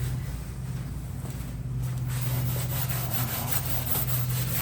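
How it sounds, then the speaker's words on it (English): Red Scotch-Brite pad scuffing a battered metal interior panel from a vehicle, a steady continuous rubbing abrasion at close range, alone without talk. "We've been scuffing it with a red Scotch Brite."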